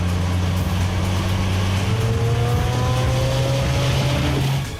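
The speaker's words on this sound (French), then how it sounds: "On touche là les limites du moteur rotatif." A Mazda RX-8 R3 with a rotary engine drives past, its engine note climbing steadily in pitch as it accelerates, loud and close, before easing off at the end.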